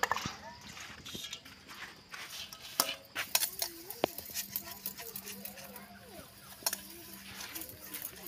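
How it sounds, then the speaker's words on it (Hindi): Dishes being washed by hand in a home, with cutlery and metal pots clinking and scraping in scattered bursts under nearby talk. "अभी गीता जी बर्तन को सब कर रहा है"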